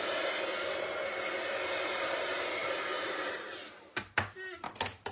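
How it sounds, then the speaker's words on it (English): An embossing heat gun runs with a steady, loud, airy blowing roar for about four seconds, then cuts off, leaving a few brief scattered knocks and handling noises. "With your embossing gun, you always want to heat it up a little bit before you actually"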